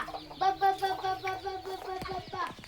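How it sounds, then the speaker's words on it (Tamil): Hens feeding on scattered paddy grain cluck steadily and close by in daytime sun, with quick pecking taps toward the end; a voice may briefly speak underneath. "அதை சாப்பிட்டு நிற்கிது எல்லா கோழியும்"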